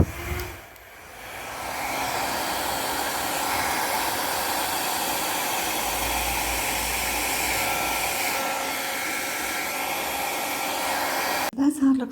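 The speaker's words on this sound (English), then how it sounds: "Oh, maybe I'll try with the hairdryer again." A hair dryer blows steadily across wet fluid-art pour paint, a constant close whirring hiss that starts after a brief pause and cuts off at the end with a clatter.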